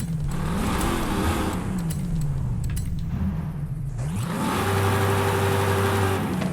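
A Plymouth Belvedere engine revs in the Forza Horizon 5 racing game, pitch climbing and falling through several throttle sweeps, then settling into a loud steady high idle with a strong low growl, no voices.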